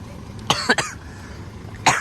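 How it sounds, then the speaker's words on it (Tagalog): Two short bursts of coughing, the first a quick double cough, then another cough a moment later, close by with no talk. "May ubo pa ako."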